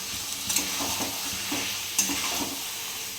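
Turmeric powder being stir-fried in a pot for a bottle gourd and goat fat dish, with a steady close sizzle and scattered scraping stirs of a spoon against the pot, no talking.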